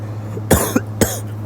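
Two sharp, close coughs from a man, with a short throat sound between them, over a steady low electrical hum.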